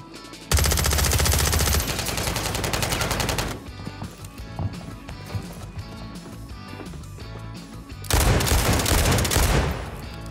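Rapid, loud gunfire in a first-person shooter video game with a TYR sniper pistol in use: dense bursts of shots in two heavy stretches, separated by sparser, quieter in-game action.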